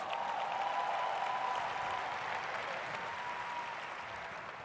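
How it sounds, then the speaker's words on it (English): An audience applauds JB at a 2014 training event in Atlantic City, steady dense clapping that holds evenly throughout and fades only slightly toward the end. "Let's give him a round of applause."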